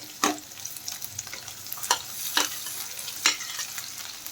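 Onion frying with ginger, garlic and whole spices (cardamom, cloves, cinnamon) in a pan for masala chole, a constant close sizzle punctuated by several sharp, regular scrapes of stirring, no voices.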